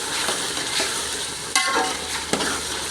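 Shredded chicken fried and stirred in hot oil for a cabbage and egg chicken curry, giving a steady close sizzle with a couple of sharp utensil scrapes against the pan.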